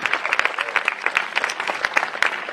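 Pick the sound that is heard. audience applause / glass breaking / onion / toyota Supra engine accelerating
audience applause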